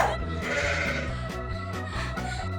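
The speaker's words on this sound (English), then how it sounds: "You win this round, goats." Several goats bleat in repeated wavering calls, close and fairly loud, with no talking over them.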